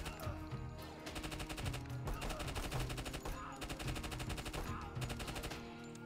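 Video game gunfire from several shooters, with bursts of rapid automatic shots and single cracks repeating at close range and fairly loud, no talk.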